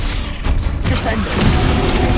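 Descendo spell slam in Hogwarts Legacy on PS5: heavy booming thuds and crashing impacts rolling through a busy stretch of game combat noise, with a voice present.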